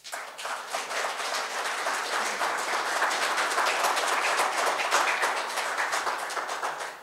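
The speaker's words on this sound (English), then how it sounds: "can we please have a round of applause for that?" A crowd at a town hall meeting breaks into applause, a dense, even clapping that swells quickly and holds steady for about seven seconds with no talk over it.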